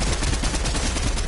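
Rapid bursts of gunfire in Fortnite, loud dense machine-gun-like shots filling the brief moment.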